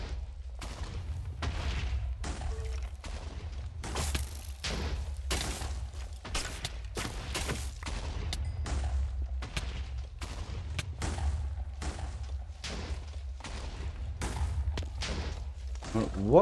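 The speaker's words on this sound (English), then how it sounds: "Oh, he's shooting me from over there." Enemy gunfire in the FTB Evolution modded game: a long, steady string of sharp shots at fairly even intervals, with a player talking over much of it.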